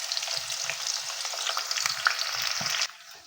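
Sliced onion frying in oil in a pan while cooking a chicken biryani, a steady broadband sizzle throughout with faint low thumps of stirring, no voices.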